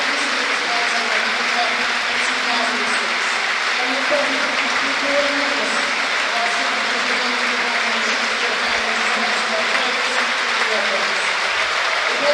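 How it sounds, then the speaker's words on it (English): Stadium crowd at a Leeds United versus West Bromwich Albion football match applauding steadily, a dense, even roar of clapping and crowd noise that holds throughout with a faint amplified announcement underneath. "The applause begins even as the words are still being spoken over the PA system"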